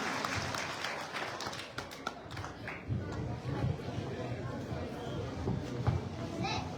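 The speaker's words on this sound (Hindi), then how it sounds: "श्रीमान जीवाराम जी, जोरदार तालियों से पुनः आह्वान" Sustained crowd clapping fills the space at a building inauguration ceremony in Rajasthan, India, a dense wash of applause from many people with voices and chatter mixed in.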